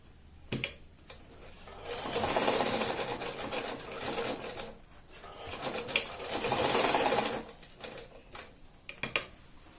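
A sewing machine runs in two sustained bursts while stitching a kurti, a straight seam being sewn along one side. The mechanical whir is close and steady, with short pauses and a few clicks and handling sounds in between.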